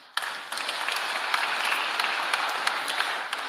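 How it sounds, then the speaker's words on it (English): An audience at a memorial service in a cathedral applauds, a dense, steady patter of many hands clapping together for several seconds. "can we give them a good round of applause?"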